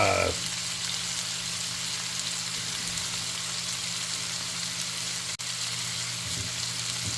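Asparagus sautés in butter in a pan, producing a constant, even sizzle that holds steady from start to finish, with one brief knock partway through and no voices.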